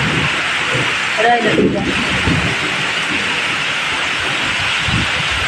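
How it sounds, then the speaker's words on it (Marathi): Heavy monsoon rain pours steadily in a village, a dense continuous hiss close by, while someone speaks briefly over it. "इतकं तुफान पाऊस, तुफान."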